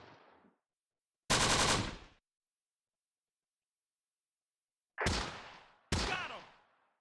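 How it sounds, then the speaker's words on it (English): Bursts of gunfire in the Close Combat video game: one sustained machine-gun burst followed by two sharp separate shots, each loud against silence with short decaying tails. "We are receiving some return fire in this angle."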